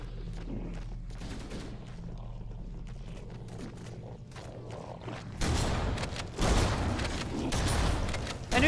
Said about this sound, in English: who says shotguns aren't effective against zombies? They are in Halo.